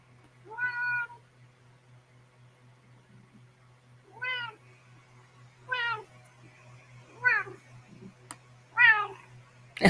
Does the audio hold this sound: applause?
no